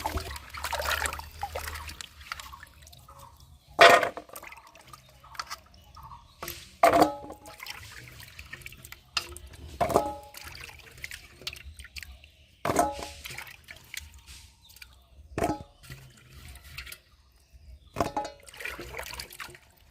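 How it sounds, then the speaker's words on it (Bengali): Cut mangoes are washed in clean water for homemade pickle, with intermittent splashes, trickles and squishy handling sounds in short bursts against quiet pauses. "সব আমগুলো কেটে নিয়েছি এবার ভালো করে ধুয়ে নেব পরিষ্কার জল"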